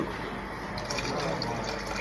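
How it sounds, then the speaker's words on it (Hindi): Water poured into a pot of beef yakhni pulao makes a steady, close splashing rush that runs without a break for about two seconds, with no voices over it. "पानी मुझे कम लग रहा है, थोड़ा सा मैं पानी डालूंगी"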